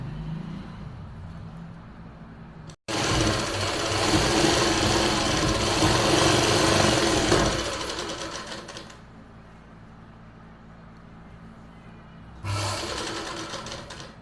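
A sewing machine stitches a dhoti salwar in a loud, steady run of several seconds, then drops to a quieter hum and starts a second short burst near the end.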